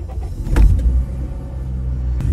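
An eighth-generation Honda Civic with a sequential automatic gearbox starts up. A loud low engine rumble swells near the start, then settles into a steady idle, with no talk.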